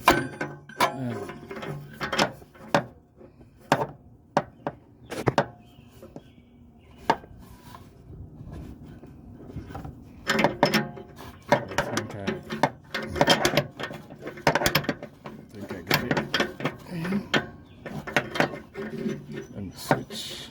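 Ratchet wrench tightening an upstream oxygen sensor on a 2005 Pontiac Montana SV6, making sharp metallic clicks in uneven bursts, sparse at first and then dense and rapid, with a voice talking at times.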